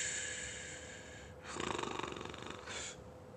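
A human voice imitates a black bear snoring, with a long wheezy inhaled drone followed by a rattling, pulsing snore that cuts off, close and breathy.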